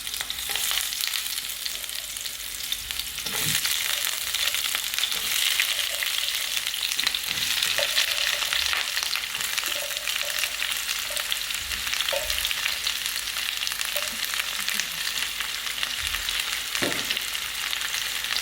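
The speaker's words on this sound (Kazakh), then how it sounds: "Мінекей жуамыз кішкене қуырылды." Onions fry in heated oil, giving a steady, moderately quiet sizzle that runs without pause, dotted with occasional soft taps and scrapes of stirring.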